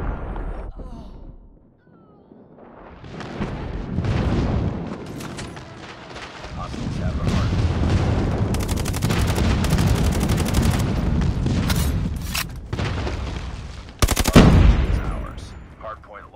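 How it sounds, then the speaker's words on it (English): A friendly airstrike in the mobile shooter Call of Duty Mobile lands as a sustained barrage of loud booming explosions and rapid gunfire, with heavy rumbling impacts and a final big blast, while game voice lines speak over it. "Friendly airstrike in."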